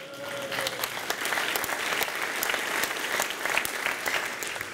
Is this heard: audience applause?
yes